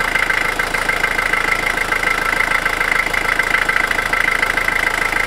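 A van engine idles steadily with a constant vibrating hum, close and fairly loud, after a battery warning light fix.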